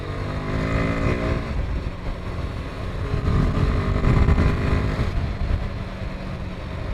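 A Royal Enfield Himalayan 450 motorcycle is ridden over sharp potholes on firm, hard-pressured tyres. The engine drone stays loud and steady under wind noise, with rougher low thumps through the middle of the ride.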